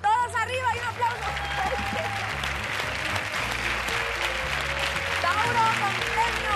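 A TV game show studio audience, standing and applauding, in a steady roar of clapping with crowd noise and a host's voice over it, while low musical tones play underneath.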